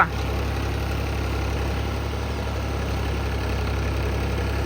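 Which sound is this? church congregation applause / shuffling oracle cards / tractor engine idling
tractor engine idling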